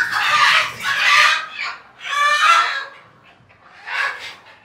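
Chickens on a rooftop farm give loud, close clucks and squawks in several separate bursts with brief quiet gaps between them, one call drawn out like a crow.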